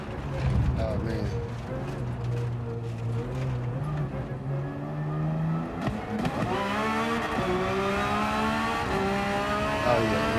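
Race car engine in Gran Turismo 7 during a Manufacturer's Cup race at Watkins Glen: a steady, loud engine drone that climbs in pitch through repeated revs and gear shifts in the second half, with no break in the sound.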